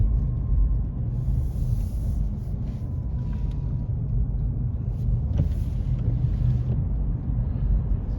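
Car driving on the old part of the Le Mans circuit, heard from inside as a steady low engine and road rumble with wind buffeting and a few light knocks.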